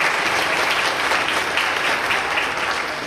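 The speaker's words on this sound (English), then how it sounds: "So give them a round of applause, please" An audience at a special education forum gives a loud, steady round of applause, dense clapping filling the room without pause.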